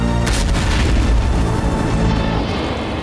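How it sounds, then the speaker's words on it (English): A film explosion erupts in front of a shop in the movie Thelma (2024): a sudden loud boom followed by a heavy, rolling rumble that fills the whole moment and slowly thins out. "There's this big explosion in front of the store."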